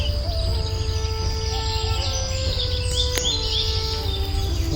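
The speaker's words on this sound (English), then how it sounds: "So lovely to hear the birds" Birds chirp and call in a natural outdoor setting in Yangon, with thin high tweets and a few sharper notes over a constant low rumble of wind or distant traffic, moderately faint.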